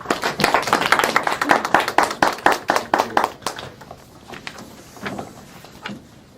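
An audience at a Toastmasters club meeting claps to welcome a guest speaker, a lively burst of applause that is dense at first and then thins out into a few scattered claps.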